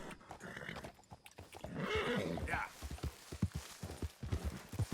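In-game horse sounds from Red Dead Redemption 2: a neigh and whinny in the middle, with hooves clip-clopping at the end, heard beneath someone talking.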